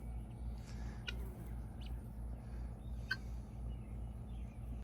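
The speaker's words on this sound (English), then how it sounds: "They are definitely some interesting birds to watch." Turkeys gobble and call faintly in the distance, a few brief scattered calls over a steady low hum.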